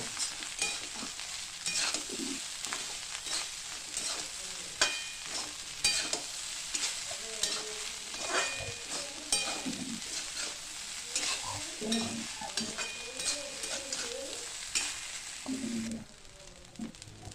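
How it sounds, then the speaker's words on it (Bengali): Cooked rice being stirred and tossed with spices, salt and a little sugar in a pan for lemon rice, giving steady scraping and stirring sounds over a soft sizzle, close and continuous, with no talking. "মশলার সঙ্গে ভাতটা ভালো করে মিশিয়ে নিতে হবে"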